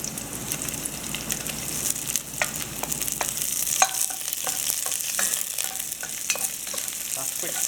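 Okra and vegetables fry and get stirred in a pot for Trinidad-style stew fish, with a steady sizzle and repeated scraping, clacking stirs at an even, close level.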